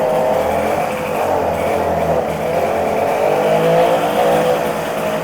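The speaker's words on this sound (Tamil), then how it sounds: "ஸோ வெஹிக்கிள் ஸ்டார்ட் ஆயிடும்." Vintage motorcycle engine with a decompressor lever, revving continuously in a loud, close, rough drone that rises and falls slightly without pause.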